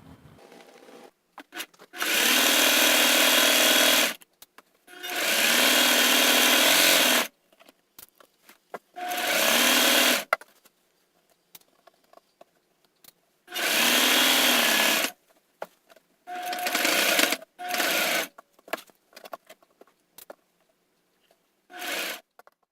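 A home sewing machine stitching flannel pajama pants, running in several separate bursts of steady whirring a few seconds each, broken by quiet pauses with small handling clicks and fabric rustles, close and loud.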